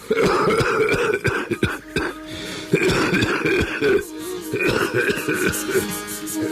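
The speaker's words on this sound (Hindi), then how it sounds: "कहते कहते उसे खांसी आ गई और वो देर तक खांसता रहा।" A man coughs repeatedly in harsh bursts, several fits of hacking coughs with short gasping pauses between them, close and loud.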